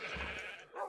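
A single short, bleating moo from a cow in the video game TerraFirmaCraft sounds close and moderately loud and stands alone.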